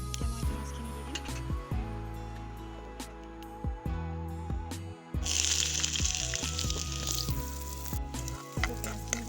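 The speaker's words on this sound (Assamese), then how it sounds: "পিঁয়াজখিনি ভাজি আছোঁ" Onions frying in hot oil with bay leaves in a home kitchen while kachkol bora curry is cooked, a steady loud sizzle with scattered stirring clatter that swells louder and brighter midway through.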